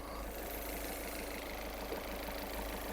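The 1.6 diesel engine of a Volkswagen Golf 6 idles steadily nearby, a low continuous rumble with a faint knocking texture and no voices.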